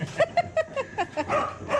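A dog barks in a quick series of about eight short, sharp, high yips, close and fairly loud with no talking over it.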